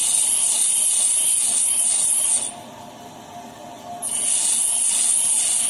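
A drill bit being sharpened against a grinding wheel, a steady close rasping grind with a brief lighter pause midway before the contact resumes.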